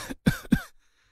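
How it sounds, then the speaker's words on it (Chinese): Three harsh coughs come in quick succession, close and loud, each a short rasping burst followed by brief silence. "一阵咳嗽声让充满担忧的荒族人反应了过来"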